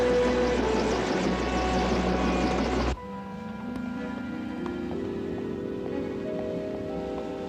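A dense roar of helicopter rotor and engine noise fills the first few seconds, then cuts abruptly to a quieter, steady mechanical hum with rising tones.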